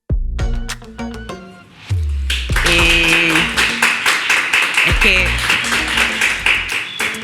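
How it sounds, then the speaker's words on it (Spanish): Audience applause at a Chilean arts and culture talk show, a steady wash of many hands clapping that follows a short musical passage, with a voice briefly speaking over it. "los aplausos"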